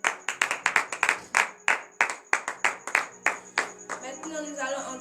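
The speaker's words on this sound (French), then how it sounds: "donnez de vives acclamations à l'Éternel." Congregation at a morning prayer service in Benin clapping in quick, uneven bursts of sharp hand claps, close and loud, then trailing off as voices begin shouting and calling out praise.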